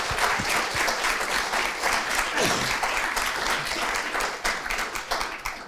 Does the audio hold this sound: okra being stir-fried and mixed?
no